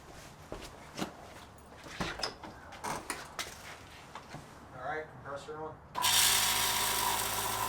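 While an ARB locker and axle seals on a Dana 30 are serviced, a few seconds of quiet clanking and handling noise give way to an air compressor switching on, a loud, close, steady roar that runs to the end.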